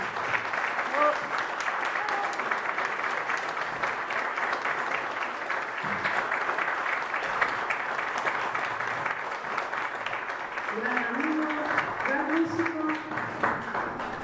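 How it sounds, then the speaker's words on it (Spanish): An audience at a municipal harp orchestra concert gives a strong, sustained round of applause for a guest guitar and charango teacher, steady clapping with voices talking over it. "voy a pedir un fuerte aplauso para Emilio"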